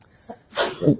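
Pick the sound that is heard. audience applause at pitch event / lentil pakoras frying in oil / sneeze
sneeze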